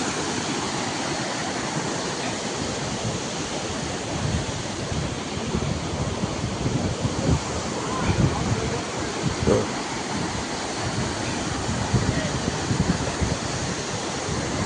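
A forest waterfall at Mayil Parai pours with a loud, continuous roar of rushing water, dense and unbroken, with a few faint splashes and knocks standing out and no talk on top.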